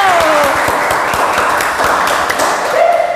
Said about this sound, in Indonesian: Jadi tepuk tangan dulu ya